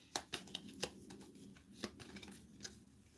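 A deck of cards shuffled during a solo tabletop card game, heard as a few quick crisp riffling bursts, close and fairly quiet, with soft handling sounds between them.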